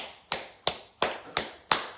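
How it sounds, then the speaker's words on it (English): Five hard slaps of a cupped hand on bare skin at the inner elbow, evenly spaced about a third of a second apart, each a sharp close smack with a quick decay. "You clap there on skin for 5 to 10 minutes"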